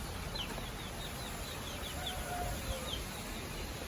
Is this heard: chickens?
yes